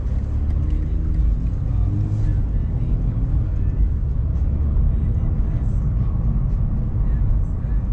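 On a one-way street, cars roll past with a continuous low rumble and tire hiss that stays steady and fairly close throughout.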